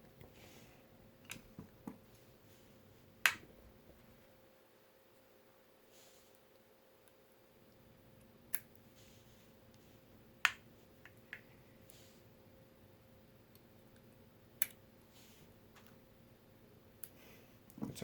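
Sharp scissor snips cutting cotton wick for a Zeus RTA, a handful of isolated clicks spaced irregularly over a quiet background hum, close and crisp.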